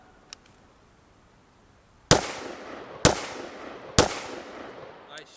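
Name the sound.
AR-15 rifle gunshots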